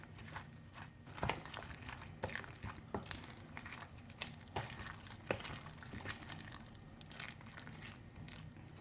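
Two spoons stirring a tuna tart filling in a bowl, producing soft wet squelching and scraping strokes in an uneven rhythm, close up and fairly quiet, with no talking.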